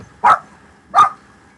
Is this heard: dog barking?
yes